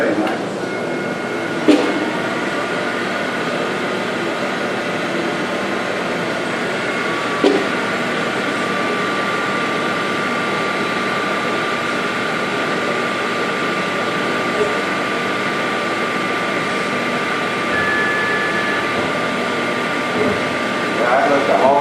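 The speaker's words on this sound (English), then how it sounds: "Guess I'll turn the spindle on." A milling machine spindle spinning up with no cutting, giving a steady whirring motor drone with faint tonal whine that continues evenly throughout, with a few light clicks.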